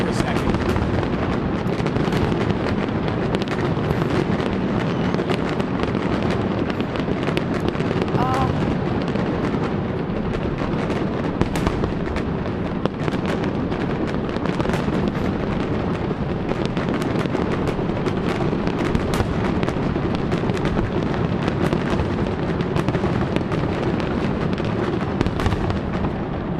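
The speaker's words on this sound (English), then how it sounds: "a live look at the fireworks, because it's coming at a rapid pace" A fireworks finale bursts in a dense, relentless barrage of crackles and booms, layered over one another for a long stretch with no pause.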